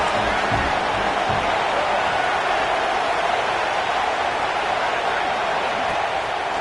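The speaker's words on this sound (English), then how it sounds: "This crowd rising up, sensing that its defense needs some help." A large crowd in a college football stadium roars in a steady, dense wash of noise that rises throughout a play, with no clear breaks and faint broadcast commentary underneath.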